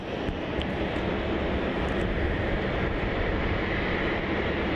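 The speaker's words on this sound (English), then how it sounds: "now we get a fantastic heavy takeoff. A newer addition for the streams, this Cathy 777" A heavy Cathay Pacific Boeing 777 takes off from Melbourne Airport, its engines a loud, continuous broadband roar that stays steady and powerful from start to finish.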